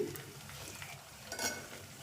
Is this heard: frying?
yes